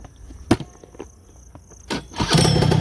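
A Honda Dio scooter fitted with a titanium exhaust pipe cranks with a couple of short bursts, then its engine catches and runs loud and close at the end, with no one talking.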